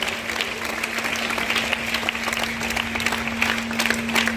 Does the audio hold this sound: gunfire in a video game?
no